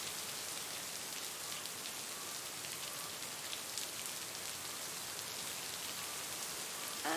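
Steady rain pours in the video game Lake, a dense, even hiss of drops falling on surfaces that continues unbroken from start to finish with no voices.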